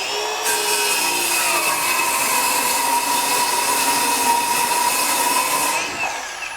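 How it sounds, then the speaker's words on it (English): Ryobi 18V ONE+ HP brushless 7-1/4 inch circular saw, model PBLCS300B, ripping through a half sheet of 1/2 inch OSB: a steady, loud, continuous whine with the blade cutting for about five seconds before it spins down, no voices. "we're gonna cut just a half sheet of 1/2 inch OSB"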